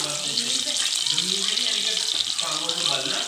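Green chilies and fresh coriander frying in hot oil for a Punjabi kadhi tadka: a steady, bright, close hiss of sizzling oil running without a break, with a low voice murmuring beneath it.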